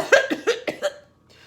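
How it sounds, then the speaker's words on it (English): Four sharp coughs in quick succession, close and fairly loud, followed by a brief quiet tail. "please pardon my cough"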